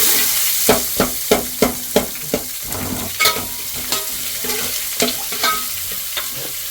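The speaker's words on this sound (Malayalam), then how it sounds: "ഉള്ളി ഇട്ട് നല്ലോണം മിക്സ് ആക്കണം" Onions frying in a pan for rava upma are mixed with a spatula: a run of sharp, evenly spaced scraping strokes up close over a constant sizzle, then looser, irregular stirring.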